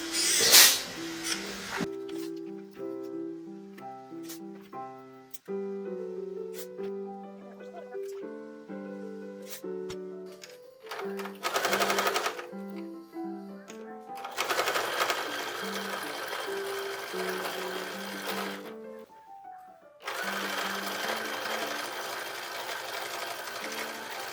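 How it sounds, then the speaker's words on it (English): A sewing machine set on an ironing board runs in several loud stitching bursts separated by quieter pauses, close to the microphone, while sewing toddler dresses. "not have to use my sewing machine on the ironing board"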